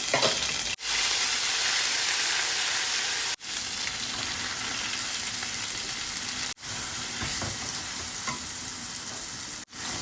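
Ginger-garlic paste frying in a hot pan, giving a steady loud sizzle with stirring scrapes, broken by three brief drops as the spoon or pan is moved; no talking.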